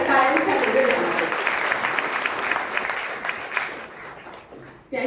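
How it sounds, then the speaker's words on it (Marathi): Loud, sustained applause fills an award ceremony where Advocate General Milind Sathe receives the Aparant Ratna honour from Lotisma. The dense clapping stays steady for about five seconds with a faint voice underneath at the start, then dips before a final burst. "त्यामुळे खूप मोठ्या टाळ्यांचा गजर झाला."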